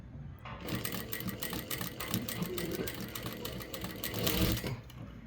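A sewing machine stitches the front part of a katori blouse in a steady, rapid mechanical chatter that runs nearly without pause for several seconds, close and fairly loud.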